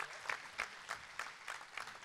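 A small audience applauding at a startup contest awards event, sparse, rhythmic clapping in distinct bursts at an even pace, fairly quiet.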